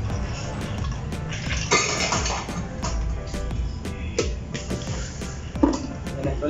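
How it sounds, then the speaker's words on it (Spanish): Ice cubes clatter and clink into a blender in a dense, rattling burst, with several louder knocks, close by and fairly loud. "Colocamos hielo, son hielitos, bien un poquito por encima,"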